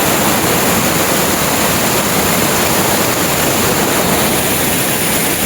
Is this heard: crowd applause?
no